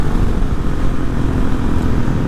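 Hawk 250 motorcycle with a Loncin RE250 six-speed engine roars continuously at high revs, a loud, dense, steady engine drone with no speech.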